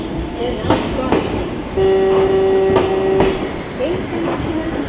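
A Toyama city tram rolls toward a street crossing, rumbling and clicking on its rails, while a steady warning tone sounds for over a second and a recorded voice speaks.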